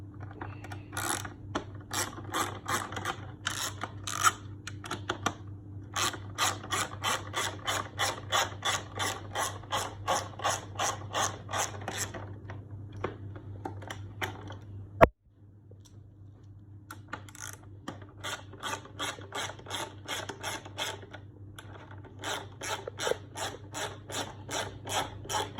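A hand ratchet clicks in quick repeated bursts while removing bolts from the tail section of an MT09 motorcycle, close and crisp, with short pauses between runs and a brief sharp knock midway.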